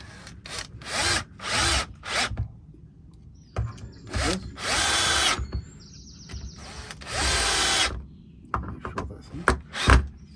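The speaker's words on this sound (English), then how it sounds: "Now I'm going to quickly drill the other ones in, nice and upright." A power drill whirs in several short bursts, driving screws into wood, with clicks and handling noise in the pauses between runs.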